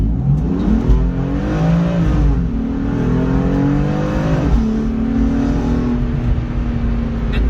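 From inside the cabin of a BMW M4 fitted with an aftermarket Milltek exhaust, the engine drones and revs up and down in smooth rising and falling sweeps, steady and fairly loud, with no voices.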